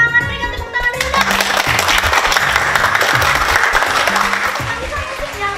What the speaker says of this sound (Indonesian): Yuk kita semangat, berikan tepuk tangan dulu dong.